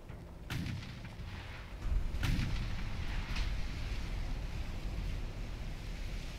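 Heavy battleship main guns boom in the naval warfare game Ultimate Admiral Dreadnought, two loud blasts early on over a steady wash of sea and wind, with fainter rumbles trailing after.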